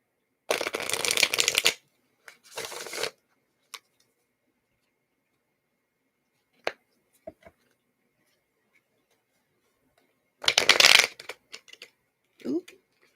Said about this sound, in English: Virgo only wants 2 shuffles.